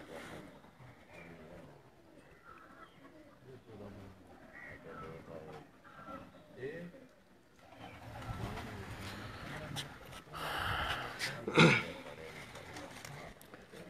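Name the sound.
teddy pigeons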